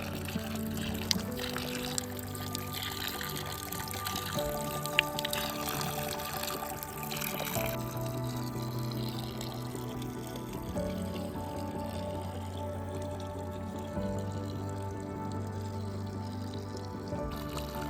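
Spring water at Buffalo Lithia Springs trickles and pours steadily throughout, a continuous splashing flow with no talking.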